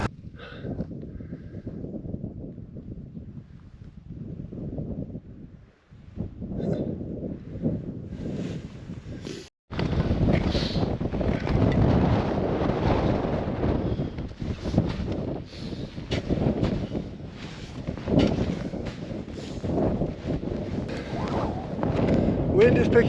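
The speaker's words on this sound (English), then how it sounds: "Wind is picking up as well." Heavy gusts of wind buffet and roar against the microphone on a mountain col on the Tongariro Crossing in winter, building from a low rumble to a loud, continuous blustering after a brief dropout.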